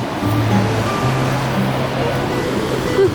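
Steady wash of surf rolling onto a shore, broadband and continuous, with a low hum running underneath and no distinct voices.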